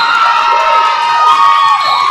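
Arizona fans at a roller derby bout cheer and shout loudly and continuously, a dense, sustained crowd roar with high voices throughout.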